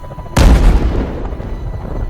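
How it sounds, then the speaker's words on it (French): A sudden deep boom bursts out, then rumbles and decays over the next couple of seconds, loud and close. "Et vous entendez un bruit d'explosion."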